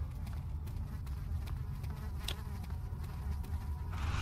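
Flies buzz steadily in a dark, cramped area of the horror video game Amnesia, a constant droning hum close by with faint clicks and shuffles over it and no talking.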